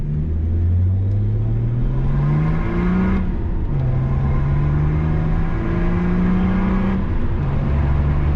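Car on a test drive after having an intercooler fitted, accelerating hard through several gears, engine pitch climbing steadily then dropping at each shift, loud and close from inside the cabin.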